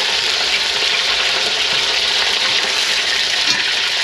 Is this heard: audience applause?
no